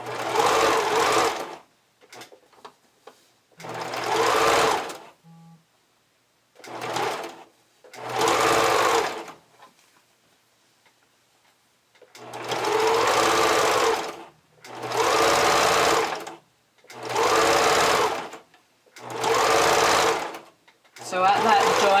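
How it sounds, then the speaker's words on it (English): A serger overlock machine stitching along an elastic trim edge, running in loud, close bursts of rapid mechanical whirring separated by short pauses, with no talking. "So I'm just going to really quickly serge that edge."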